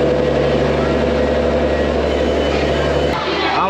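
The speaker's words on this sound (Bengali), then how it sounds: "লেট করে এই জাস্ট ট্রেন ঢুকলো 10:06।" The Puri–Shalimar Garib Rath Express arriving at a platform produces a loud, steady low rumble and engine drone with a few tonal hums, cutting off abruptly near the end, while a person talks over it.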